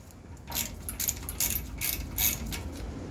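Stubby ratchet wrench tightening a rear brake bolt on a Toyota Tundra, a series of faint quick clicking bursts in an uneven rhythm, close by and without talk.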